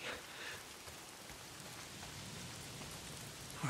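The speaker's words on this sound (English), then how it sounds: "Why is it always raining?" Steady rain falls in the video game Days Gone, a dense even hiss of drops spattering on surfaces, close and continuous with no voices.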